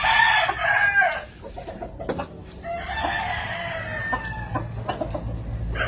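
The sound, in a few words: chickens crowing and clucking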